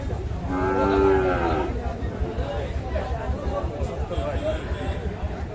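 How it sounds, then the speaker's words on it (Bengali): Sahiwal bull calf at Kaharol cattle market gives one loud, close moo near the start, followed by a busy crowd hubbub with voices talking throughout. "এই যে এই পাশে আমরা দেখছিলাম একটা শাহিওয়াল জাতের ষাঁড় বাছুর"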